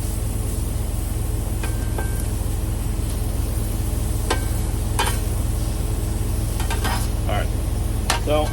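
Sausage sizzles loudly and continuously on a Blackstone griddle as its grease renders out, with occasional spatula scrapes and clicks over a steady low hum.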